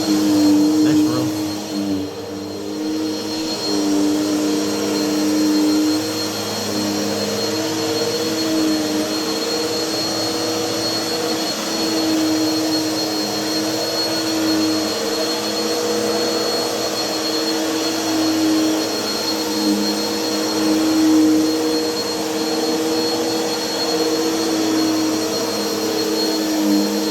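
A Bissell vacuum cleaner runs steadily on carpet, a loud continuous motor whine with a constant airflow roar that holds at the same level throughout, with no breaks.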